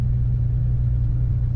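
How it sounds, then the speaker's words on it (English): A 1968 Ford Mustang coupe being driven, giving a steady low engine rumble and drone from inside the car, constant in loudness, with no speech. "Today we're driving a 1968 Ford Mustang."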